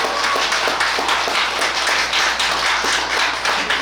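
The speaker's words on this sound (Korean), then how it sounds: "박수 한번 쳐주십시오." An audience at a Busan Buddhist lay association dharma talk claps for a student, a loud, even round of hand claps filling the whole stretch.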